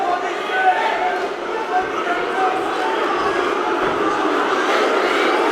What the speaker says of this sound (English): The crowd is cheering for Luf.